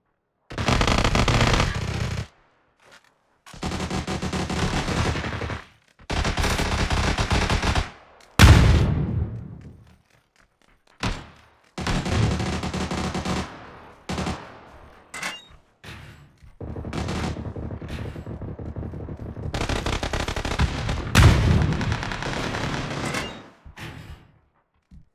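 Video game gunfire with sniper shots, bursts of loud rapid shooting separated by short silent gaps, some single sharp cracks, close and dominant over the 25 seconds.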